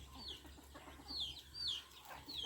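Hens cluck faintly and steadily while a few high, squeaky chick peeps repeat over a low background hum.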